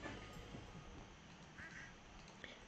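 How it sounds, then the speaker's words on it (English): Duck quacking in the Stardew Valley farming game, a few short nasal calls that stand out over a steady bed of game ambience and background noise. "what should we name our duck?"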